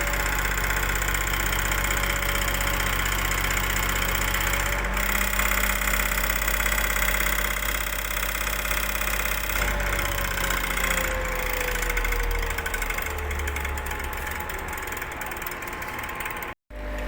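A lab electric motor runs continuously under rising torque load, a steady close whine and hum whose pitch slowly drops as the load increases, ending in a sudden brief cutout.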